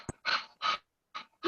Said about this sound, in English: A dog panting, I think